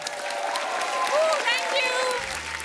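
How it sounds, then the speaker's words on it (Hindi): Studio audience applause on a comedy talk show rolls steadily under a loud mix of music tones and voices talking over it. "जोरदार तालियां हो जाए एक बार।"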